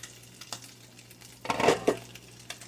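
A spatula scrapes stuck hamburger off the bottom of a skillet with little grease, giving a few short metallic scrapes and one longer gritty rasp, close and alone.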